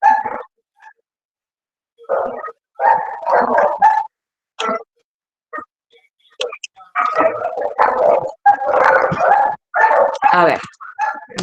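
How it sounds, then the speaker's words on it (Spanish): Neighbourhood dogs fight and bark nearby in repeated loud bursts of barks, yips and whimpers, with short pauses between scuffles. "ahora encima se me han puesto a pelear los perros de la cuadra"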